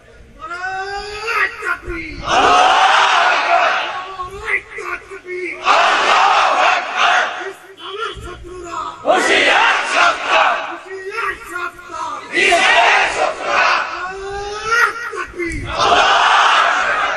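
Crowd at an Islamic religious gathering (mahfil) in Dhamrai roaring takbir in unison, loud repeated bursts of massed shouting roughly every three seconds with brief gaps between.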